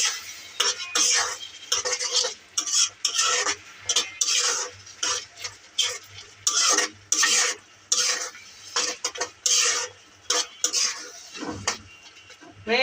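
Mango pickle with panch phoron and dried chili powder stirred in a pan, a spoon scraping and clinking in repeated short bursts with faint sizzling between strokes, close and moderately loud.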